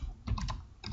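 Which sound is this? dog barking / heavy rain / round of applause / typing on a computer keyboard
typing on a computer keyboard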